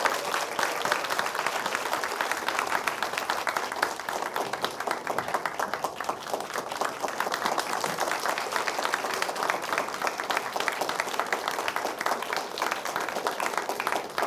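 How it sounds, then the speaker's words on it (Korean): An audience in a university lecture hall gives sustained, dense applause during a flower bouquet presentation to a provincial vice-governor, a steady loud roar of many hands clapping without pause. "큰 박수로 부탁드리겠습니다."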